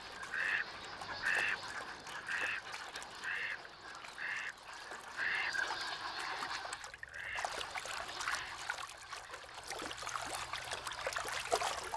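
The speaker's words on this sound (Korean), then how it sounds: "그런데 한 무리의 오리가 황급히 날아오른다" A flock of ducks on a river in Gurye, South Jeonnam, with a run of repeated rhythmic calls and wingbeats during takeoff, over trickling water, then fading to scattered splashes.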